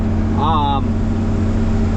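A John Deere 4640 tractor pulls a chisel plow through new ground, its engine a steady low drone with a mid-pitched hum. A voice briefly rises over the engine early on.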